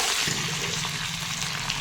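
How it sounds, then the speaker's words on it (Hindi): Potatoes and eggplant just added to a pan of hot oil with cooked onion and garlic fill the brief moment with a dense, continuous hissing sizzle, close and even, with no talking. "आलू और बैगन को डाल दिया है।"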